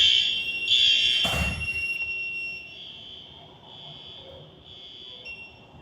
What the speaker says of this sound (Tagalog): Okay, so you can silence the alarm.